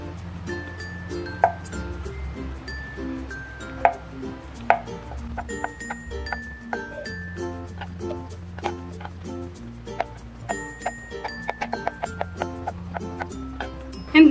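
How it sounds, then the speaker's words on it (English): A knife cuts peeled boiled potato into cubes on a cutting board, with a string of sharp taps, irregular at first and then quicker and closer together, clear and near under light background music. "So ngayon naman ay ikakat natin ito into cubes."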